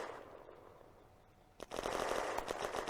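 A tank firing its machine guns in the World War II tactics game Firefight, the Eastern Front probe toward Morosova Lakes: after a quiet hiss, a dense continuous rattle of fire starts and runs steadily, moderately loud and fairly distant.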